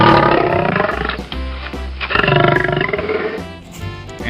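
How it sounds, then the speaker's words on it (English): A lion roars loudly and close, several deep rumbling bursts in a row, alone without talk. "this is a lion,"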